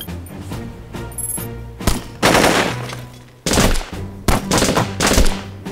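Gunfire in the tactical video game Jagged Alliance Crossfire: loud, dense bursts of rapid shots and booming impacts in several waves, close and heavy with no speech.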